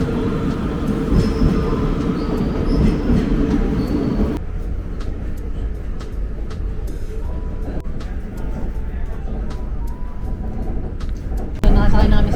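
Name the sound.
train arriving and running, Amsterdam to Gouda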